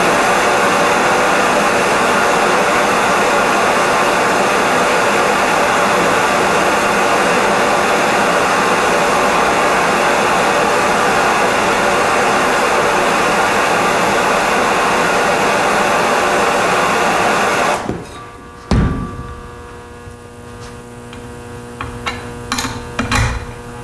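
Heat gun warming a broken golf club shaft for extraction, a loud steady blowing hiss for about eighteen seconds that cuts off, followed by a few small clinks and handling sounds.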